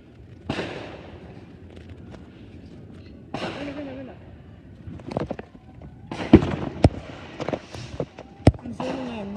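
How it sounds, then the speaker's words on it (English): Scattered sharp bangs and crackles of Fourth of July fireworks at varying distances, some with fizzing tails, over a low background murmur. "I'm waiting for another firework."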